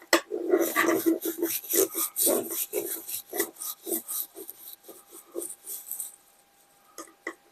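A small part is screwed onto a plastic Tiger II tank scale model, heard as close, irregular scratchy rasping and rubbing bursts that thin out and fade toward the end.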